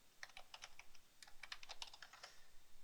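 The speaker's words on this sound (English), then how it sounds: "I'll press the Tab key to move to cell B1 and type the next title" Keys clatter on a computer keyboard while entering spreadsheet titles in Excel 2010, a quick irregular run of crisp close taps heard alone and fairly quiet.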